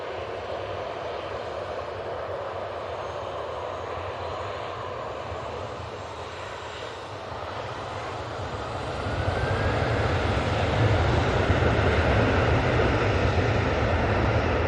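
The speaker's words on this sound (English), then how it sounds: "That plane is on steroids." Airliner engines roar steadily at Manchester Airport, a broad continuous rumble that swells louder in the second half as the plane passes close.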